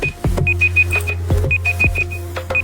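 A timer alarm beeps loudly in quick repeated bursts of high tones, with thumps and clatter between the bursts.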